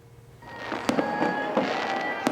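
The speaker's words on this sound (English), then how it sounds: "As many people get ready to light up the sky with fireworks" Fireworks explode in several sharp bangs amid a steady crackle and hiss, loud and fairly close, ahead of the seasonal celebrations.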